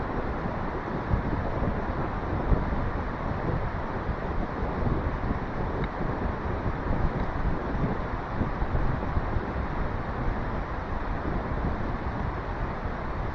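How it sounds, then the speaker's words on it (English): Strong wind buffets the microphone continuously, a loud steady roar with gusty rumbling throughout and no voices. "It's so windy."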